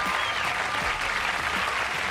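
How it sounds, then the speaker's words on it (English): Comedy club crowd applauds a stand-up comedian, a continuous, moderately loud burst of clapping with some cheering mixed in that holds steady throughout. "That's way too much applause, really."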